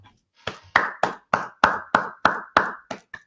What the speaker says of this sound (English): Round of applause for Yordenis Ugas on a tremendous performance